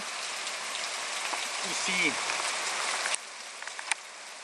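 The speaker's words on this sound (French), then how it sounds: "Non, non, c'est pas de la neige, c'est que de la pluie." Steady July rain hisses down across a courtyard, a dense even patter with a few louder drips, as a voice briefly speaks over it.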